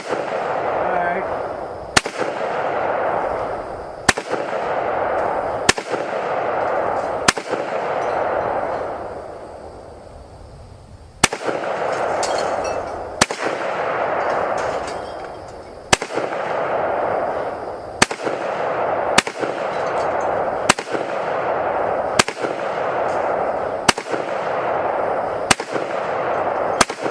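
Gunshots from an ATI Omni Maxx Hybrid AR-style rifle in .223/5.56 at an outdoor range: about a dozen sharp, loud reports spaced a second or two apart, with a pause partway through and a noisy background between shots.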